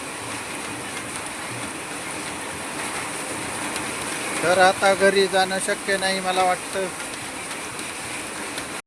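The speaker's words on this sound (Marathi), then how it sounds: "आणि खूप पाऊस चालू आहे मित्रांनो।" Heavy rain pours outside a clothing shop in Akola, a steady broadband hiss running the whole time with someone talking over it.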